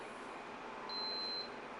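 A single thin, high electronic beep from a blood glucose meter, held for about half a second over a quiet, steady background hum.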